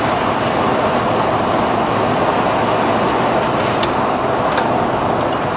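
A car drives along a road in a rural area after taking a highway exit, with a steady, loud broadband rumble of engine and tire noise that holds evenly throughout. No one talks.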